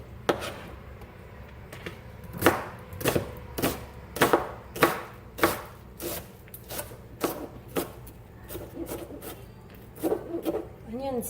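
An onion is chopped with a knife on a board: a run of sharp, irregular chops, close and clear, fading to softer taps near the end, with a voice faintly underneath.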